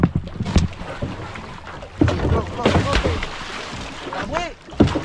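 A small fishing boat rides the water on a yellowfin tuna trip, with wind and sloshing water around it while people talk on board.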